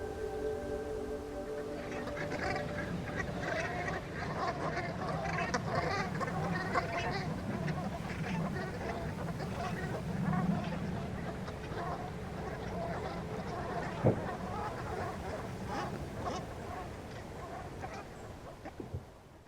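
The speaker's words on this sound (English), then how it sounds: "spectacular numbers of brant geese, who migrate from Siberia every winter to the reserve" Brant geese calling at a Fingringhoe Wick nature reserve in winter, a dense distant chorus of overlapping honks and murmurs from a large flock, steady and fairly faint.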